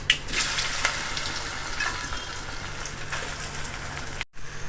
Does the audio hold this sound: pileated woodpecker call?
no